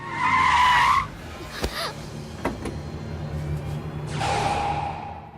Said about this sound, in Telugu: అదిగో రాజుగారి కారు వస్తుంది, ఫాలో అవ్వండి.